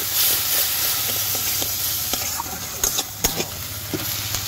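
A ground spice paste of turmeric, chilli powder and salt hits a pan for a rural Sundarbans fish curry, giving a steady close sizzle and hiss with a few scraping stirs and light clinks.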